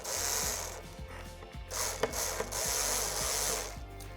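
Screws are driven in while mounting an Enermax LIQFUSION 360 ARGB all-in-one liquid CPU cooler: close, rhythmic ratcheting clicks repeat in short runs, with a couple of sharper knocks midway.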